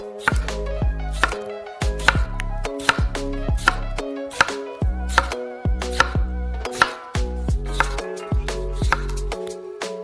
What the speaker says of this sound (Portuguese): Para o recheio, cortamos tomate em rodelas.